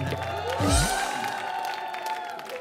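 Audience applause on a Punjabi comedy show, a broad clapping wash that swells briefly under a short musical sting and continues steadily at moderate level.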